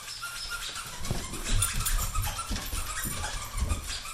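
A dog whimpers and whines in short, high-pitched bursts close by, with snuffling and a few soft yips in between.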